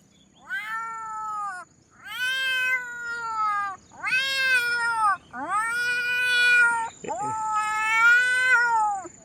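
A voice imitating fighting cats, with long, drawn-out yowling wails repeated five times, each rising and falling, loud and close.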